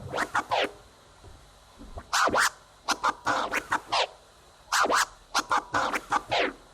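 Baby scratches and two-click flares cut with a crossfader on a DJ turntable, heard alone as quick, sharp bursts of scratched record sound in short rhythmic groups separated by brief gaps.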